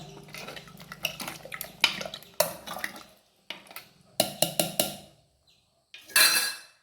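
A spoon stirs salt and chilli powder into vegetables for Kerala sambar in a metal pot, making close, irregular clinks and scrapes in short bursts separated by brief silences.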